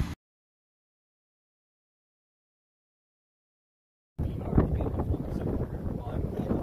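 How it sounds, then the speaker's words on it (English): Strong gusts buffet a microphone outdoors on a walk toward the James River near Glasgow, a loud rumbling roar that cuts in abruptly after silence and continues steadily. "It's windy as hell."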